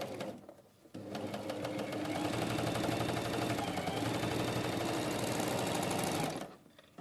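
A sewing machine stitches a seam of fabric lined up against a center notch. After a brief start it runs fast and steadily for about five seconds, then stops, with no voices over it.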